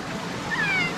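A cat gives a single short, faint meow outdoors against steady background noise.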